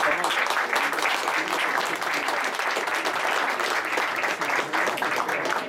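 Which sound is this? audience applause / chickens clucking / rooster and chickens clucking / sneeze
audience applause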